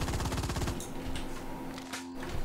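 Rapid submachine gun fire from the shooter game Firefall, a fast rattling burst that runs loud and continuous through most of the moment, with steady game ambience underneath.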